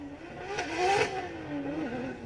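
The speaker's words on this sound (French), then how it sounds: "Frein à main, clutch, gaz. Pour maintenir la glisse avec sa Subaru BRZ." A Subaru BRZ engine revs and surges in pitch as it slides in a drifting competition, rising then easing back, fairly loud and close with a steady drone underneath.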